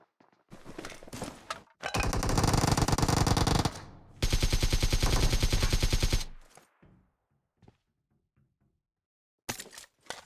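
Automatic gunfire in the mobile battle royale game BGMI rattles out in two long, loud rapid bursts, framed by a few shorter shots and faint footsteps.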